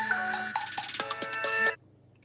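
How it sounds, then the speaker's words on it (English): A phone ringtone chimes in a short melodic pattern during a livestream, ringing clearly for under two seconds before stopping abruptly, with no talk. "Sorry about that phone call."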